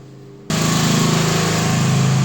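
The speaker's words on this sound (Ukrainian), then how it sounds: "І ось наше живлення генератор Пішла нагрузка, що наше навантаження. Зараз ми з вами на генераторі." An emergency generator for a boiler house kicks on after a short quiet stretch and settles into a loud, steady, close mechanical drone under load, with no talking.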